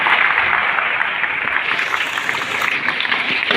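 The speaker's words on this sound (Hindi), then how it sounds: "एक बार अपने सभी कोचेस के लिए जोरदार ताली बजाओ।" Children at a summer camp certificate ceremony in Bhilai clap loudly for their coaches in a continuous burst of applause that fills the whole moment.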